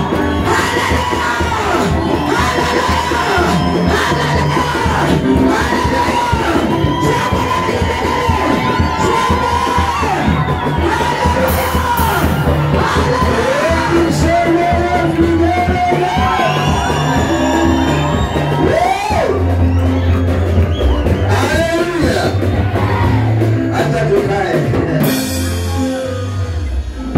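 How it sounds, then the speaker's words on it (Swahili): A church congregation greets its spiritual father with sustained ululation, cheers, whoops and applause, a dense, loud crowd roar that continues throughout before tapering slightly at the end. "Shamba la vigelegele na makofi mengi kwa Yesu."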